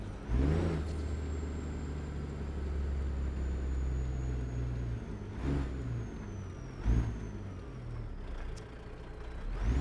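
A truck engine in American Truck Simulator drops through its gears, with a low droning rumble that shifts pitch in steps and a few sharp hissing bursts in between.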